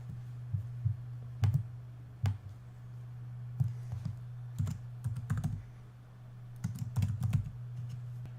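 Keys clatter on a computer keyboard in uneven bursts of quick taps separated by short pauses, close and fairly quiet over a steady low electrical hum.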